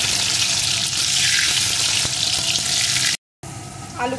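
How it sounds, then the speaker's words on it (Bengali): Cut potatoes frying in oil with salt, a loud continuous close sizzle and crackle that breaks off briefly near the end before resuming. "এখন লবণটাকে দিয়ে আলুটা সুন্দর ভেজে নেব।"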